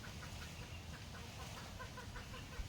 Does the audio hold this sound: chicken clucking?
yes